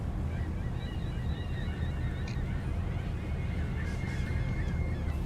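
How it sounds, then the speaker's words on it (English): Seagulls calling loudly at sea from a North Atlantic lobster fishing boat, repeated squawking cries over a constant heavy rumble of engine and wind. "Seagulls are being nice and loud right now."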